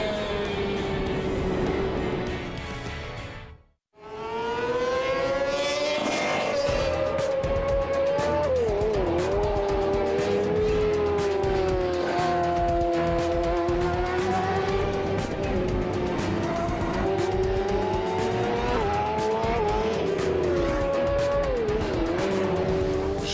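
Yamaha R1 motorcycles racing on a track, loud engines whining at high revs with gliding pitch shifts as they change gear and sweep past, sustained and close after a brief gap near the start.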